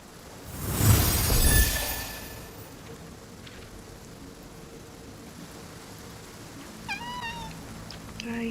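Cats meow in the video game Infinity Nikki. A loud burst of noise comes first, then a soft ambient hum, and near the end a pair of short, clear meows follow one another.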